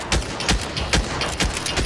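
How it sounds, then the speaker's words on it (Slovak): Gunfire rattles out in short, repeated bursts from a VR shooter video game played in an airsoft vest, loud and close, with no talk over it. "Ako po mne strieľa niekto odtiaľ"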